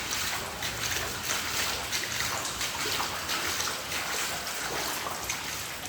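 Floodwater trickling and sloshing around a blocked drain in a flooded underground garage in Vicenza, a steady close watery wash with small splashes and gurgles throughout, no speech.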